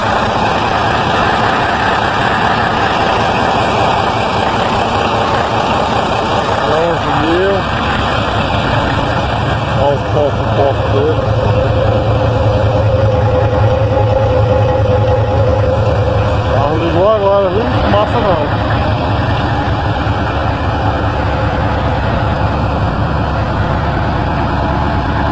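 A 53-year-old truck's engine idles steadily with a low, continuous rumble, while people talk nearby over it.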